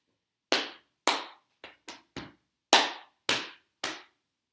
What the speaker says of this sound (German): Klatsch, klatsch, Brust, Brust, Brust, klatsch, Bein, Bein.